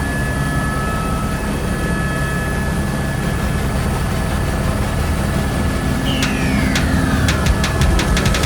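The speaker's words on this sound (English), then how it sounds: "This helicopter pilot is filming a high-speed chase for an upcoming movie." A helicopter filming a high-speed movie chase thunders steadily overhead, a loud continuous rotor and engine roar with a faint falling whine near the end, no talking.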